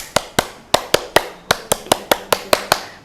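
A class of children claps in unison on cue, a dozen sharp, loud, evenly spaced claps in a steady rhythm, close and with no talking over them.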